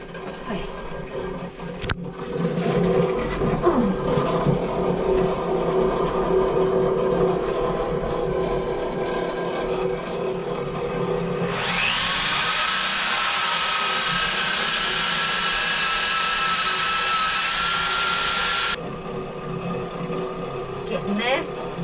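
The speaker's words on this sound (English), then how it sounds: "we're basically sanding the area around the through holes" A power sander grinds on the aluminium hull around boat through-holes before seacock installation, a steady loud hiss running for about seven seconds over a background of low machinery hum.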